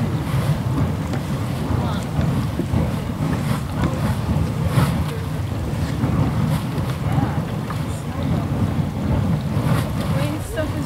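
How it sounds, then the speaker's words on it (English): A steam vent at Norris Geyser Basin in Yellowstone puffs and hisses with a rough, continuous rushing roar, loud and close, with gusty wind buffeting throughout. "It's puffing and giving us a luxurious taste of sulfur."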